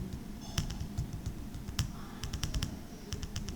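Computer keyboard typing in an Excel session: scattered, crisp key clicks coming singly and in short quick bursts, close and moderately loud over a low background hum.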